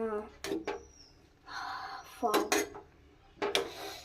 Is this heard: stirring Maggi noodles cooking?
yes